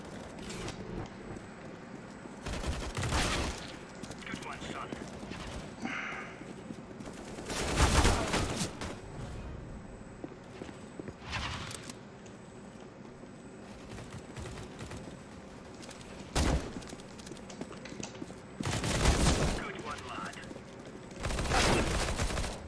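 Video game gunfire crackles in several loud bursts and scattered volleys spaced through a long stretch, with a faint background hiss between shots.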